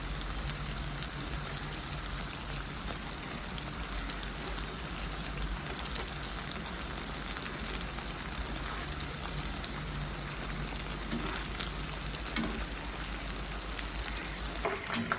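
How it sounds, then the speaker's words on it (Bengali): Jalebi fries in a pan of hot oil with a dense, even crackle and sizzle that continues without a break, close and moderately loud, with no talking. "জিলাপিগুলো ভাজা হয়ে গেছে, এখন তুলে সরাসরি রসে দিয়ে দেবো।"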